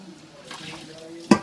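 About two tablespoons of water are poured into zucchini cooking in a pan to soften it, giving one short, sharp splash and sizzle near the end after a quiet, low stretch.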